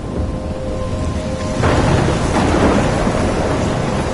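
Thunderstorm in the video game Life is Strange: steady rain and wind hiss, then a loud rumbling thunder crash that rolls on for the rest of the clip.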